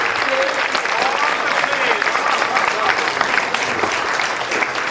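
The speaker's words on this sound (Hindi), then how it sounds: "आप लोगों ने जो तालियां बजाई" Sustained applause from an audience at a patriotic Hindi poetry recitation, dense and steady throughout, with a faint voice buried in the clapping.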